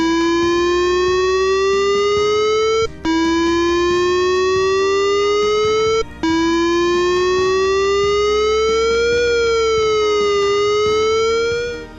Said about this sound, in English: If you hear any sirens while on the pyro process line,